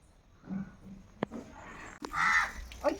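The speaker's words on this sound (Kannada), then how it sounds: "ಕಾಗೆಗಳ ಸಾಮ್ರಾಜ್ಯ ಬಂದೈತೆ" Crows caw a few times in a village yard where fish is being cleaned, the sharp calls fairly close and coming in brief, irregular bursts against quiet surroundings.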